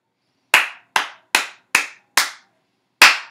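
Six crisp, close hand claps in a Suzuki rhythm for a beginning ukulele lesson, five quick evenly spaced claps followed by a pause and one final clap, with silence between.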